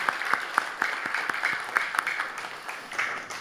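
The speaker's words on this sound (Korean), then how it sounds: "저희 다시 한번 박수로 격려하고 축복하도록 하겠습니다" A church congregation gives brief applause during an afternoon worship service, a moderate crowd clapping with a loose, audible rhythm of individual claps over a few seconds.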